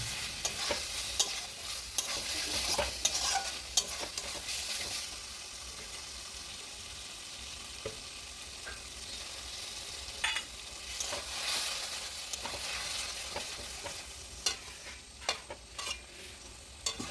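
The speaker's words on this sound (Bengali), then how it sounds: "কিছুক্ষণ আলুগুলো কষে নেবেন।" Fried potatoes are tossed in masala for goat-meat khichuri, with a continuous sizzle broken by bursts of spatula scraping and clatter, loud at the start and again toward the end. The frying is close and no one speaks.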